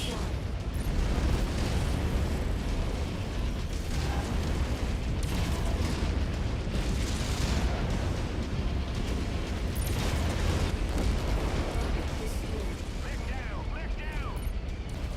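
A mech blows up in the MechWarrior 5: Mercenaries video game with dense, continuous rumbling blasts and crackling debris that stay loud throughout, while a voice speaks over the din.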